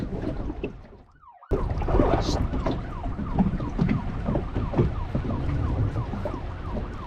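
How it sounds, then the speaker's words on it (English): Police sirens wail in repeated rising and falling sweeps, heard at a distance across open water from a Leopard 50 sailing catamaran, with wind and boat noise underneath. "Oh, I hear sirens."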